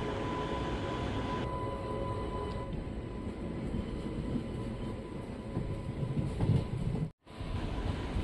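A passenger train on the Bengaluru to Bidar run pulls out of Wadi Junction, heard from on board as a steady low rumble and rail hum, with a brief cut near the end.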